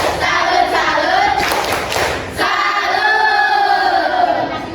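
A Class X high-school class in Indonesia performs the 'tepuk salut' routine, voices chanting together around a brief burst of rhythmic group clapping in the middle.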